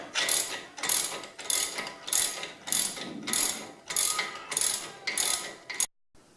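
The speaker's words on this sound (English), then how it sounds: "remove the stock bolt with an E14 and an 18mm." A ratchet wrench loosens the stock front suspension bolt on a 2017 Jeep Cherokee KL, sounding as about eight loud, close bursts of rapid clicking in an even rhythm, then stopping.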